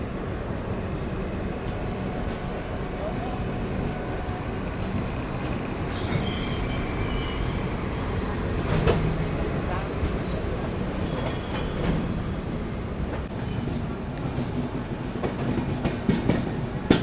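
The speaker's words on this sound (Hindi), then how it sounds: "डिपार्चर अपना हो चुका है मुजफ्फरपुर जंक्शन रेलवे स्टेशन से" Interior of a Garib Rath Express train with LHB coaches after departing Muzaffarpur Junction, heard from a berth: a steady loud rumble of the running train with wheel squeals and rail clatter throughout.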